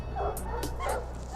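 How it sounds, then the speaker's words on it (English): Hunting dogs tracking a cougar outdoors, a few sharp yips and barks ringing out over a steady low rumble, with a whimpering tone between them. "The team follows the tracks of the cougar and the dogs and the sounds of barking"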